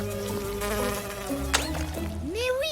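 Cartoon mosquitoes whine with thin, wavering buzzes that slide up and down in pitch, set against music-like tones and a few short effect sweeps.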